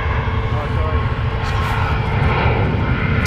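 An airliner pushes back from its stand at Stansted Airport, its engines giving a steady, loud roar and hum throughout, with a voice talking over it.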